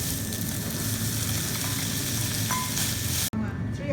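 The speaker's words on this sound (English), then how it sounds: "Firstly, we're going to fry the vegetarian ham." Vegetarian ham frying in a pan gives a loud, continuous sizzle and crackle throughout, with a faint stir or scrape near the end before the sound cuts sharply.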